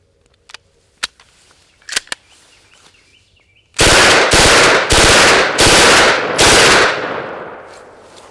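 Economy model rifle firing five rapid, loud, evenly spaced shots close by, each with a sharp crack and a short ringing tail, after a few faint clicks and handling sounds.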